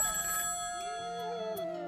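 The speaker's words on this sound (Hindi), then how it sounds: "और फिर फोन बजा।" Telephone ringing effect: a steady electronic ringtone with sustained harmonic tones and a brief warbling phrase, loud and close, with no voices present.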